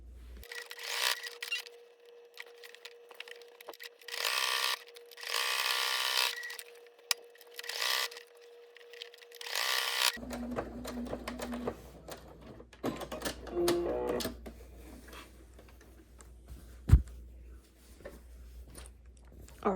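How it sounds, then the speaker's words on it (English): A sewing machine runs in several bursts of stitching on a quilted tote bag, close and fairly loud, stopping and restarting, followed by softer handling, rustling and clunks of fabric and parts. "I'm gonna start sewing from this side to this side all the way to here."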